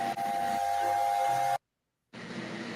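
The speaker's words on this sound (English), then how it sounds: "Then listening to Caledonian Works' whistle." In a train simulator game, the Caledonian Works A4 steam locomotive whistle gives one sustained, loud, steady chime, cuts off abruptly, and after a short silence the game's background sound returns.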